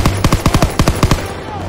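Machine gun fire in the World War II shooter Call of Duty WW2, a rapid burst of about a dozen loud, close shots in steady rhythm, trailing into a brief quiet tail.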